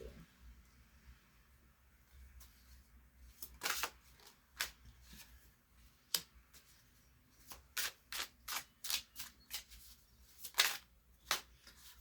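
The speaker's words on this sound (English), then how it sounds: "Let's pull our cards" Tarot cards being shuffled close up in a quiet room, with a scattered run of sharp riffling bursts that come more quickly toward the end.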